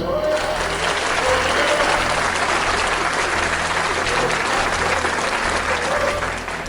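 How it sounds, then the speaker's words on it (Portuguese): A church congregation claps together in a dense, sustained wave of applause that fills the room evenly throughout, with faint murmured voices beneath. "Bate palmas para Jesus."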